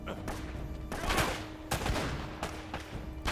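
Bursts of gunfire in the video game Uncharted: Drake's Fortune, several sharp volleys spread across a few seconds over a dense game soundscape, with faint voices mixed in.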